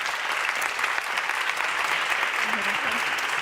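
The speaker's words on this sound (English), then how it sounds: "And a big applause, please." An audience at a women-in-tech summit applauds, a steady, dense wash of clapping that holds evenly throughout at moderate loudness.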